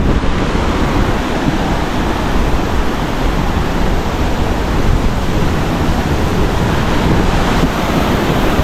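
Strongly flowing water at a natural wonder near Lima rushes in a loud, steady, broadband roar with no talk over it.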